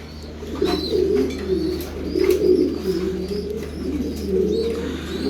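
Racing pigeons coo in a loft, a steady overlapping chorus of low throaty coos that swells and fades, with a few faint chirps above and a constant hum underneath.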